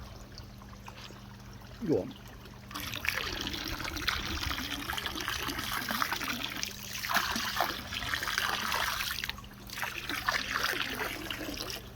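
Virkon Aquatic solution is tipped into a koi pond with moving water, giving a loud, continuous splashing pour that lasts about nine seconds after a short quiet lead-in with a brief spoken word.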